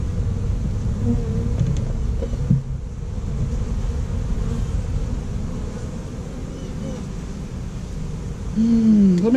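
Honey bees buzz steadily around an open hive during an urban hive inspection, a close, continuous droning hum with a brief louder swell near the end.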